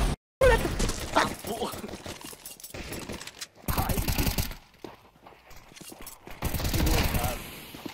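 Bursts of rifle gunfire from a Counter-Strike 2 match, sharp rapid shots clustered in several loud volleys, mixed with game sounds and players talking over it.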